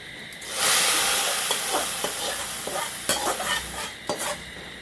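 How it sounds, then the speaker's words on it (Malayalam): A tempering for a thazhuthama curry hits the hot pan with a loud burst of sizzle and hiss, then keeps crackling while it is stirred with a few scraping clicks, no voices. "ഇപ്പം ഞാൻ താളിച്ചിടാണ്"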